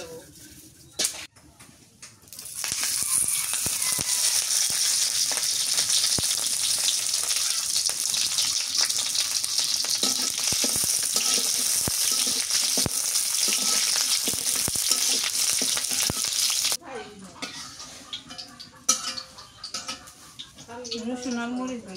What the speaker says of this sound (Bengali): রসুন আর মরিচটাকে ভাজিয়ে নিচ্ছি।